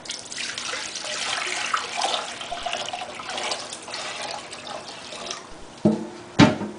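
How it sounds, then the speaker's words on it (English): Water poured from a container into a measuring cup in a kitchen sink while making a turkey brine: a continuous close splashing pour, then a few sharp separate splashes and drips near the end. "I'm just going to pour the water inside the measure cup."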